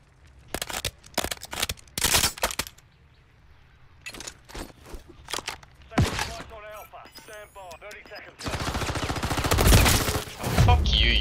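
Shotgun blasts in a Call of Duty match boom out as sharp, scattered shots, some in quick pairs, followed by a denser stretch of continuous firing and clatter near the end.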